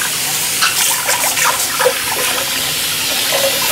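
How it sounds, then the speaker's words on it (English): Tap water runs over an old, 50-year-old Le Creuset pot with cooked-on residue, a loud, continuous splashing gush broken by uneven spatter as the pot is moved under the stream, with no voices. "So we're rinsing that pretty well here."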